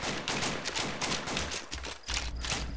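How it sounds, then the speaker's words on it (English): AK rifle fire crackles in a military video game, rapid bursts of overlapping shots, moderately distant, with a dull thump partway through. "I hear more AK"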